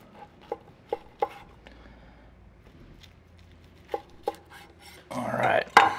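Knife slicing through smoked pork ribs glazed in Korean BBQ sauce, a few soft, close cutting taps spaced apart, ending in a brief louder sticky, rustling burst.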